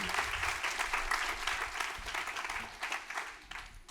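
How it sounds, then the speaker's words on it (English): An audience at a business program workshop applauds steadily for about four seconds, a dense wash of clapping that thins slightly toward the end, with no talk over it. "One more round of applause."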